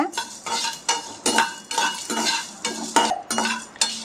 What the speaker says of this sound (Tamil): சேர்த்துட்டு அடுப்பை வந்து மீடியம் டு லோ ஃப்ளேமில் வச்சுட்டு ஒரு 3 நிமிஷம் நல்லா வறுத்துக்கோங்க